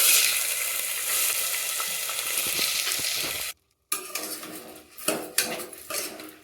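Washed mixed sprouts fry in hot oil inside a pressure cooker, giving a steady close sizzle with the scrape and clink of a stirring spoon against metal, briefly cut off then resuming with sharper stirring knocks.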